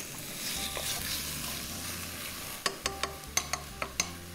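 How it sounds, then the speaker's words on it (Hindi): Chicken curry masala sizzles steadily while frying in a home kitchen pan, with a constant crackling hiss and a run of sharp spoon-stirring clicks near the end. "ये जो आवाज आ रही है, ये सिजल।"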